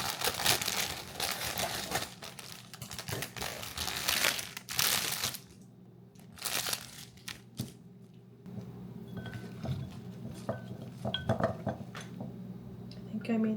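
Hydrangea flowers from Whole Foods being handled and trimmed for a vase, with loud crinkling of wrapping and stems, scattered snips and light clinks, and some talking mixed in.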